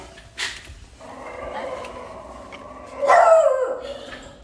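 A dog gives a couple of barks and a drawn-out whining yelp, fairly close, with quiet gaps between.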